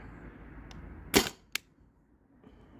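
A Byrna TCR gas-powered less-lethal launcher fires a single sharp, close crack, followed by a fainter snap, then a quiet background with no talking.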